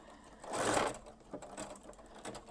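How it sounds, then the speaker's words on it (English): A sewing machine runs a short burst of back-tack stitches on freestanding lace, a brief close whirring rattle followed by a few lighter mechanical clicks. "I'll probably back tack a couple stitches just to reinforce it."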